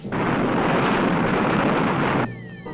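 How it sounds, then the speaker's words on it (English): Retro rockets roaring as a spaceship lands in an old monster movie, a loud, continuous broad blast that cuts off abruptly and leaves a faint whine. "Fire retro rockets"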